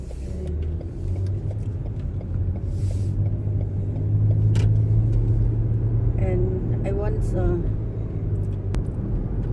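A car passing on a road in Thailand, a steady engine rumble that swells in the middle and fades, heard from close by with some background clatter.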